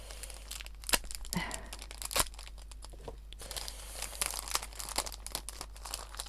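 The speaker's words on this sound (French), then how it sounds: "Ah! Pourquoi tu veux pas t'ouvrir?" A gift package being torn open by hand, with crinkling paper and quick tearing rips in irregular close bursts, quiet overall and with no voices.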